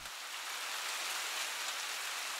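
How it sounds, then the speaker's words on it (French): Autumn rain falls in Paris as a steady, even hiss of drops, soft and continuous throughout with no voices. "L'ambiance déjà pesante est couronnée d'une jolie pluie dont seul l'automne parisien détient le secret."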